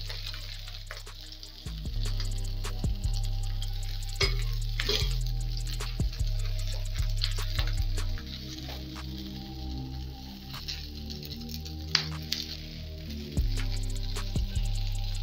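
Paneer and rice cutlets fry in oil in a pan, giving a steady close sizzle. Soft clicks and scrapes from turning the cutlets break in now and then, and a low hum runs underneath.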